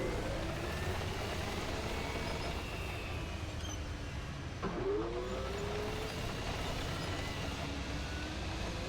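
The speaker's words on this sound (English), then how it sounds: "Listen to that engine spin down like it's from Star Wars." Tank engine in the game World of Tanks, a steady mechanical drone throughout with a falling, whining spin-down sweep near the middle, loud and continuous with no talking.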